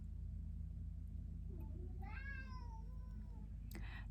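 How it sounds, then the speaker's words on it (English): A pet cat gives one clear, drawn-out meow over a steady low rumble of background noise, followed by a brief sharp knock. "My cat likes to bully me."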